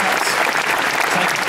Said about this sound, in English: Big round of applause for George.